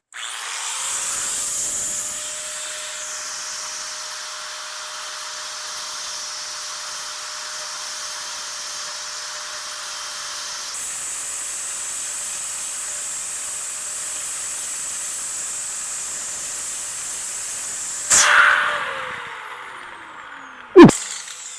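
A power grinder cuts a hole in fiber material on an F600 truck, whining at a steady high pitch for about eighteen seconds, then spinning down, followed by a sharp clunk.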